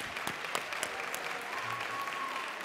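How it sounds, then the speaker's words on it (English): A school concert audience at a middle school winter holiday concert applauds the advanced band, a steady wash of clapping with a few sharper claps standing out near the start. "give a nice loud round of applause for the advanced band."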